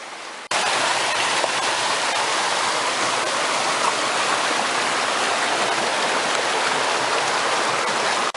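Creek water flows over the rocks of a hiking trail where the stream itself forms the path, a steady, close, full rushing wash that begins abruptly and continues unbroken.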